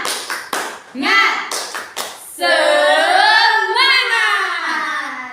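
Primary school children in a classroom clap in a quick rhythmic pattern, then break into a loud, sustained group shout of a chant, close and energetic.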